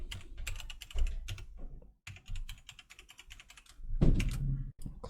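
Computer keyboard typing as a username and password are entered while setting up a remote Mac desktop connection over VNC, with bursts of close, crisp keystrokes separated by short pauses and a heavier thump near the end.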